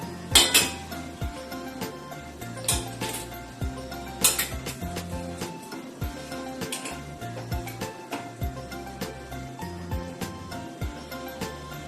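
Maggi noodles being scooped from a metal pan onto a plate, with repeated clinks and scrapes of utensil against cookware in an irregular rhythm, close and fairly loud.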